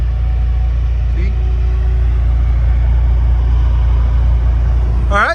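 A 1999 BMW M3 with a 3.2L inline-six, no catalytic converters and a Sebring muffler idles steadily with a deep, even exhaust drone, close and constant, while people speak briefly near the start and end.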